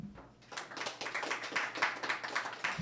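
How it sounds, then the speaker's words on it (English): A live audience claps for a guest speaker at a tech meetup, the applause steady and moderately near, with dense overlapping hand claps building slightly over a few seconds before tapering. "Let's give our good friend Luke Melia a warm round of applause"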